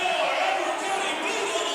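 Loud, dense roar of a packed crowd at an Elbert County High School boys' basketball game against Rabun, a steady wash of cheering and chatter with no breaks.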